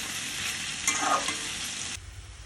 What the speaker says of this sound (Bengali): এখন আমি কুমড়ো ভেজে তুলে নিচ্ছি।